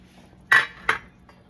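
A metal pot lid clanks twice onto a pot of boiling miswa noodle soup: a sharp first clink, then a softer second one close by.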